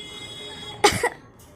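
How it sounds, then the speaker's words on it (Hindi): A single short cough, close by, against a faint steady background hum. "और मुझे खांसी है"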